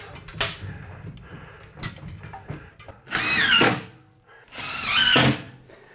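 Power drill driving two-and-a-half-inch screws through a second layer of drywall while finishing a basement, two loud whirring bursts of about half a second each after a few quieter knocks and handling thumps.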